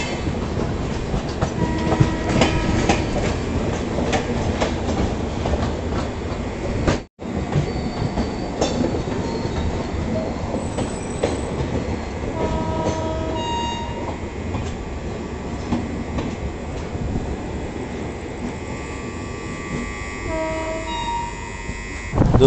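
The Udhampur Express, running from Durg to Udhampur, rumbles past with a loud, continuous clatter of wheels on rails and a brief horn blast midway, with no voices over it.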